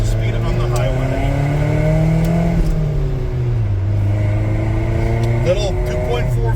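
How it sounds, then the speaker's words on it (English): A car with a 2.4-litre four-cylinder engine accelerates on a highway, its steady drone rising and falling in pitch as it gains speed, loud and continuous with constant road noise throughout. "Alright, so getting up to speed on the highway."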